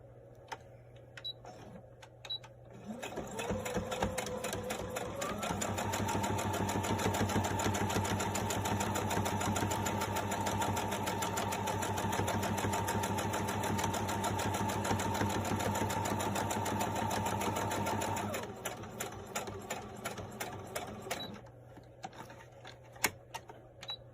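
A sewing machine stitching through thick layered fabric for a washable medical mask, a loud steady mechanical whir running for about fifteen seconds before it winds down, with no talk.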